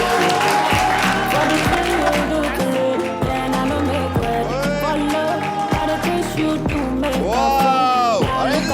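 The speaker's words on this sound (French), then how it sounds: "Applaudissements." Audience applause greets Miss Luxembourg 2025 arriving on a live French-language talk show, a steady dense clapping that runs for several seconds with music and background sound mixed in.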